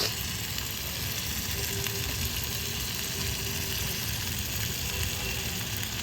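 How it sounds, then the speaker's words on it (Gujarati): Guvar (cluster beans) and potato sabzi sizzling steadily in hot tempered oil on a portable rooftop stove, a dense continuous frying hiss with faint stirring, no voices. "આ વઘાર્યું મેં શાક."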